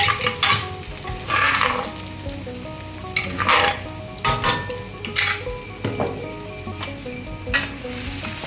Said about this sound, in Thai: ปุ๊บน้ำมันเดือดก็เอากระเทียมลงหอมทะลุจอเลยทีเดียว